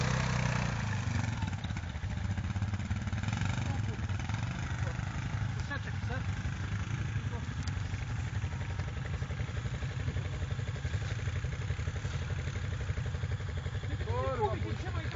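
A Yamaha Grizzly 660 quad engine running, a steady mid-pitched idle with mechanical clatter and slight revving, close and continuous, with people talking over it at times.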